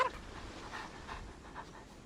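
A puppy in the video game Genshin Impact pants softly in quick, steady breaths, with faint whimper-like tones and quiet game ambience throughout.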